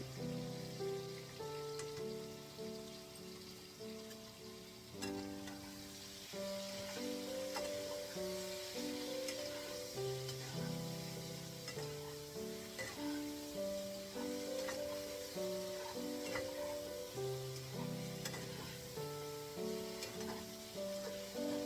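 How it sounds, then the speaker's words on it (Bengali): Eggplant pieces coated in salt and turmeric fry in mustard oil in a wok, giving a quiet, steady, rain-like sizzle beneath continuous background music. "বাকি বেগুনগুলোও আমি ভেজে তুলে রাখছি"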